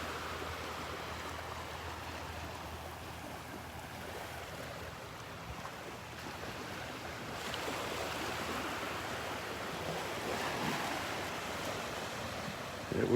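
Ocean surf washes onto the beach at Delnor-Wiggins Pass in Naples, Florida, a faint, continuous wash of waves mixed with wind that grows a little fuller in the second half.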